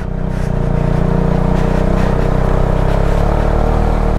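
A motorcycle engine revs hard and steady as the bike climbs a muddy uphill road on a long-distance adventure ride from India into Nepal, loud and close with a constant droning roar and no talking.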